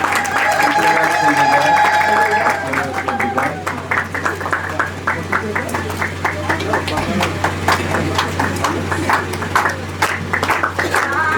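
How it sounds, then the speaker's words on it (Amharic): Audience applause at a graduation celebration, a crowd clapping in dense overlapping claps that build and continue steadily, with voices and cheering mixed in. "ጭብጨባ ያስፈልገዋል።"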